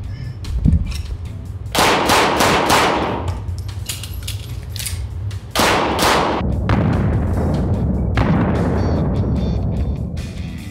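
Beretta 92 Elite LTT pistol firing at a target: sharp loud shots in irregular clusters across the clip, with a brief pause where a reload falls between strings.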